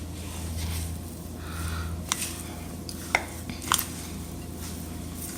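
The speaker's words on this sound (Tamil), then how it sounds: "நல்லா கிளறி விடுங்க." A spoon scrapes and clinks a few times while stirring tamarind rice in a pan, over a low steady hum of the stove.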